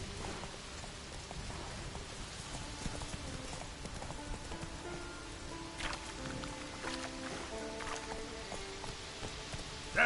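Hooves of Roach the horse clip-clop in an even, unhurried rhythm through steady falling rain, both quiet and faint, with nothing else standing out.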